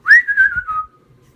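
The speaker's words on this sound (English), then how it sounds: "you can use either the whistle they come with, or you can just whistle through your own lips" A single human lip whistle, one rising then gently falling tone about a second long, sounds close and clear, made to call a Digi Birds toy bird. No speech is heard.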